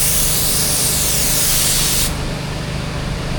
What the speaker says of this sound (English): See how I'm spraying it?